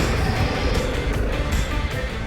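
A 2024 Harley-Davidson Pan America 1250 Special on a test ride, its engine droning in a steady, loud, broadband roar that holds unbroken with no clear rev peaks, wind and road noise mixed in, no talking.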